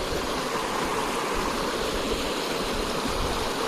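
Clear stream water rushing past a wooden log dammed across a jungle swimming hole, a dense, close, continuous babbling flow with no talk.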